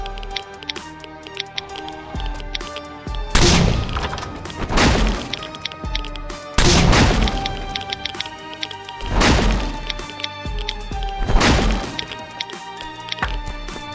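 C4 charges blow up one after another while a base is raided in the survival game Last Island of Survival, with about five loud, crunching blasts over a dense, continuous bed of game noise.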